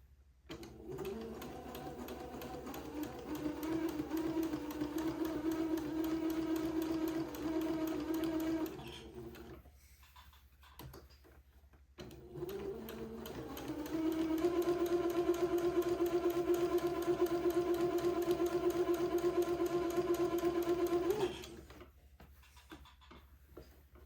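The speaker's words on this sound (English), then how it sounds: "let me go ahead and sew at 1/8 of an inch away from the back edge of the bonnet" A sewing machine runs two long, steady whirring bursts while stitching a seam on a smocked bonnet, with a short pause between runs and quiet handling noises. The sound is close and fairly soft, and no one speaks.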